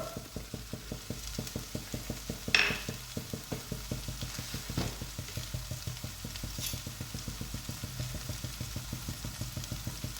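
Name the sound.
sautéing soya curry with spice powders in a pan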